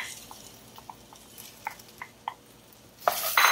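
Onions, garlic and peppers sauté in a pan over a quiet sizzle, with a few soft utensil taps and scrapes. A louder clatter of stirring comes near the end.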